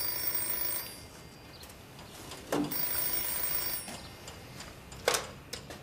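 A telephone rings faintly in an indoor setting, with two distinct ring bursts a few seconds apart over a steady background hiss.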